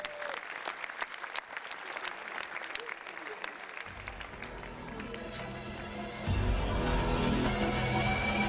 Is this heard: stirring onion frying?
no